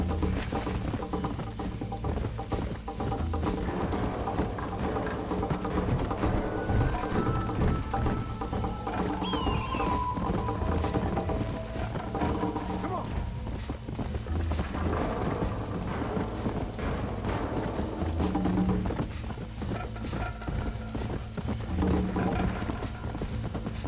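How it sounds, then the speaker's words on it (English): Steady hoofbeats of a horse galloping in the Red Dead video game, a continuous rhythmic clip-clop running close and loud throughout with no talk over it. "O cavalo dela corre bem pra caramba."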